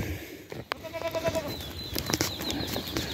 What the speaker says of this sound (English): I'm going to take the goats for a walk.